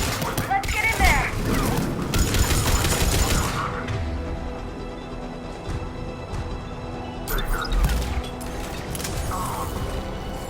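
Sustained video game gunfire in Mass Effect 3 as troops fight at a checkpoint, dense rattling bursts and blasts through most of the stretch, with voices calling out over the combat.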